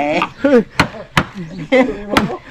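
A hammer pounds wood while fly wood is fitted on a wooden boat under construction. Four sharp, loud blows land at irregular intervals, with someone talking between the strikes.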